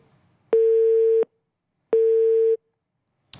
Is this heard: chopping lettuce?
no